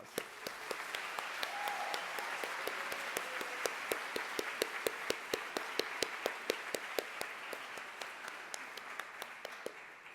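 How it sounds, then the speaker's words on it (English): A crowd of more than a thousand people at a Harvard event gives a round of applause, faint and distant, with sharp individual claps standing out above a soft, even wash of clapping throughout. "And now I would ask you to give all these people a hearty round of applause."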